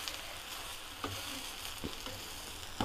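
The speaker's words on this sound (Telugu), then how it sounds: "బాగా ఎర్రగా కూడా కాలుతుందండి." Ginger and carrot pesarattu, a mung bean dosa, frying on a hot pan, with a soft, steady sizzle throughout and a few faint scraping taps of a spatula.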